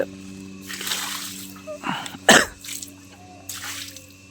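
Water splashes in a few separate bursts while a large doorway area is washed, with a sharper splash in the middle and softer ones around it over a low background hum.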